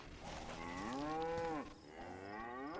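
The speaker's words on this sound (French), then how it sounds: "Donc là, par exemple, je tue la vache." A cow in DayZ gives two long, drawn-out moos, the first rising and falling, the second shorter and lower. Both sound close and clear over quiet in-game ambience, with no talking.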